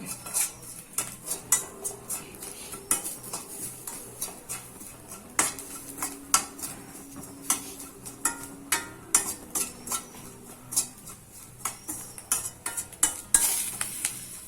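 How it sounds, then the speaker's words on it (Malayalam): Repeated scraping and stirring of a spoon in a pan, steady clicks and scrapes over a soft sizzle as grated coconut dry-roasts for Kerala sambar, no talking. "ഇവിടെ തേങ്ങ വറുത്തോണ്ടിരിക്കുകയാണ് ഞാൻ"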